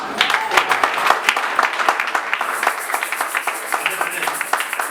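A church congregation at a Pentecost service applauds steadily for the whole stretch, the dense clapping close and loud, with a few sharp louder claps standing out near the start.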